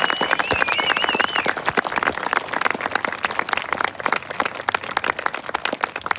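A round of applause for graduates at a 2024 graduation ceremony, a dense crackle of many hands clapping, loud and close, with a voice briefly rising above it early on.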